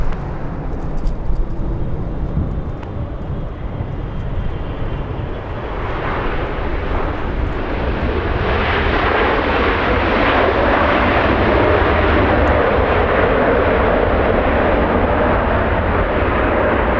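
A Delta airliner takes off at Los Angeles International Airport, a loud jet engine roar building and swelling into a broad, sustained thunderous rumble that stays strong to the end.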